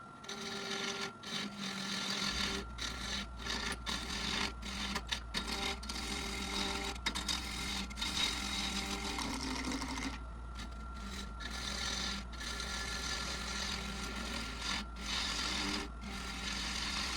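A woodturning tool cuts a segmented checkerboard bowl spinning on a lathe, a continuous scraping, peeling hiss over the lathe's steady hum, with an intermittent rhythmic chatter as the tool meets the corners.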